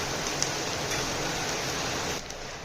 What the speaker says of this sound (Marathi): पावसामुळे तुम्हाला आवाज पण येतोय का नाही काय माहिती नाही, येतोय आवाज थोडा.